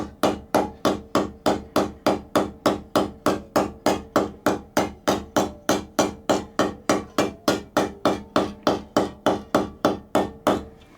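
A hammer lightly taps along the teeth of a handsaw being set, working from the toe; about thirty crisp metallic taps fall in a fast, steady rhythm, close and clear, with no voices.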